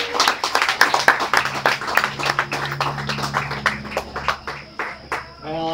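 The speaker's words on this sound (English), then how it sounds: "Let's give him a big round of applause." A small audience at a storytelling night in a taproom claps for an impromptu storyteller. The individual hand claps are distinct and scattered, fading out just as a voice starts speaking at the end.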